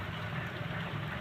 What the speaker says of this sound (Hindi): बारिश हो रही है ना, और हवा भी चल रहा है।